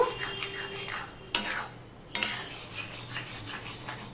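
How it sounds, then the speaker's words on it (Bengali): Taro leaf (kochu saak) curry being stirred and mixed in a pan after a pinch of salt, with scraping spoon strokes and a couple of sharp clanks over a faint sizzle, close and moderately quiet. "দিয়ে সম্পূর্ণটা আমি মিশিয়ে নেব"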